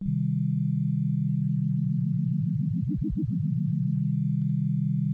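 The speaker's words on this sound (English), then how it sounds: "You can mess with the rate and the depth of the oscillators." A low Pocket Piano synthesizer drone begins pulsing and wobbling as the oscillator rate and depth change, the modulation growing faster and deeper, then easing back into a steady hum.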